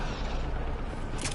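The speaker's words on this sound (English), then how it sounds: "Oh, that's an explosion." An explosion booms in the video game Mass Effect Andromeda: a loud, rumbling blast with a sharp burst near the end, heard alone without talk.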